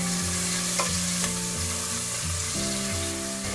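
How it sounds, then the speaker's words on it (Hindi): Onions, curry leaves and green chillies fry in a pan over medium heat with a steady, dense sizzle. Stirring scrapes and knocks come now and then, close and loud, with no talking. "प्याज डालेंगे, करी पत्ता, हरी मिर्च। प्याज सॉफ्ट होने तक पकाएंगे"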